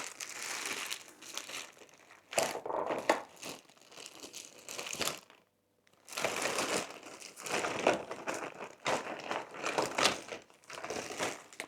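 Plastic bags crinkle and rustle in bursts as paints are tidied away, with quick crunchy handling, one short pause, then more close-up crackling.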